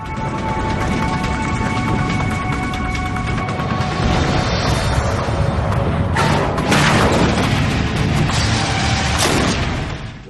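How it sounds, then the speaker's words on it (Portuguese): A loud, sharp crash slams down amid heavy mechanical roar and rattling as the nose of an Air Canada Boeing 767 hits the runway hard. "O nariz atingiu a pista com um estrondo, como um disparo de uma arma em nossos pés."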